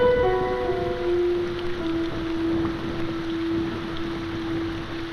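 Rain falls in a film scene: a steady, even hiss of rainfall with a sustained musical tone held over it, and no voices.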